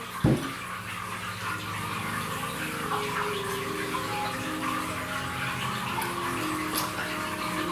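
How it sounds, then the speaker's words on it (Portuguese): Water pours into a drinking glass with a steady trickling gush after a short knock at the start, a continuous close splash that rises slightly in pitch as the glass fills, with no talking. "coloquei aqui a água, estou colocando aqui no meu copo"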